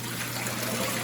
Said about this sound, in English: this water has already started overflowing into the bucket